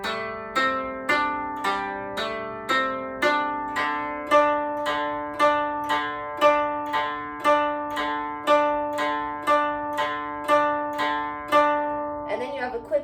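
A koto phrase of steady, evenly spaced plucked notes, about twenty in a row, each ringing and decaying, moving across a descending then repeating string pattern, played alone and close, ending with a brief flourish.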